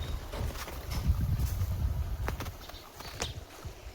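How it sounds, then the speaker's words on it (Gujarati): A water pump motor filling a farm tank runs as a low, steady rumble outdoors, with brief bird calls and wind over it. "મોટર હાલે"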